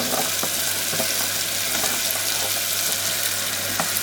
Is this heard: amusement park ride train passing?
no